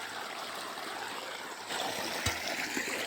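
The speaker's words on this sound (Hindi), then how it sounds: "तो चालू हो गया है मोटर, देख सकते हो गाइस पानी फेंकने लगा।" Water gushes steadily from a motor pump on a cabbage farm. It makes a continuous broadband rushing splash at moderate level that swells slightly partway through, with a brief knock near the end.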